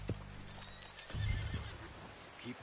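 Horse whinnying and hooves clip-clopping in a Wild West video game, with a short neigh at the start and then louder rumbling hoofbeats and snorts up close, alone without talk.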